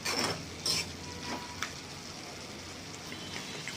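Tomatoes tipped into a pan of frying brinjal and fenugreek curry: a couple of soft clattering drops early on, then a quiet, steady sizzle with light stirring scrapes.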